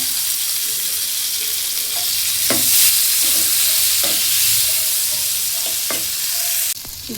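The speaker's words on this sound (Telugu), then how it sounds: "ఇప్పుడు వేగుతున్న బాండీలోకి మనం కట్ చేసుకున్న ఉల్లిపాయలు వేసి వేసుకోవాలి టమాటాలు ఉల్లిపాయలు అదే ఆయిల్లోని వేసి వేసుకోవాలి" Onions and tomatoes fry in oil in a hot pan for paneer masala curry. A steady, close sizzle runs throughout, broken by a few sharp stirring scrapes.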